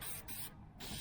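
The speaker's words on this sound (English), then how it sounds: "we're going to spray a little. It's a rust converter, turns it into a black primer" Rust converter hissing from a spray can onto the rusty roof of a 1976 El Camino, two close, steady bursts of spray separated by a brief pause.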